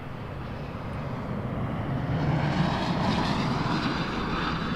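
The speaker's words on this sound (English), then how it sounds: "Embraer Legacy coming in" Embraer Legacy business jet coming in to land at Toronto Pearson Airport, a broad engine roar that swells gradually and stays steady, heard at a moderate distance without speech.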